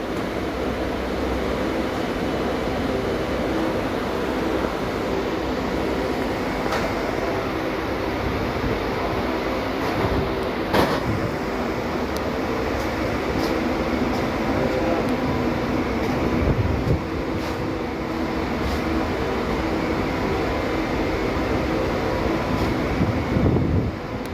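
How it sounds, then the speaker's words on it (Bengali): A train pulls in at a busy station, a continuous loud rumble of wheels and carriages with wind buffeting the microphone and a few sharp clanks, no clear talk. "ওই ট্রেন থেকে এই ট্রেন আসছে"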